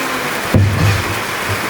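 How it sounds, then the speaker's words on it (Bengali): Steady midday rain, easing after a heavy downpour, gives an even hiss heard from indoors near a kitchen, with one brief thump partway through. "আর এখন বৃষ্টি একটু কমছে"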